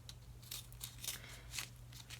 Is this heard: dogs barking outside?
no